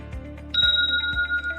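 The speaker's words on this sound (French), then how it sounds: "Lorsque vous entendez ce petit tic, ça veut dire que la requête de retrait est en cours." Short notification chime for a payout request: a bright two-tone ding enters about a third of the way in and rings on with sustained tones, over faint low background sounds.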